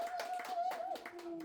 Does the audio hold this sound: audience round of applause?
yes